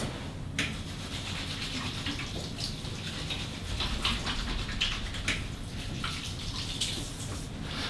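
A tap runs steadily at a sink during handwashing, a soft continuous stream with faint splashes and drips.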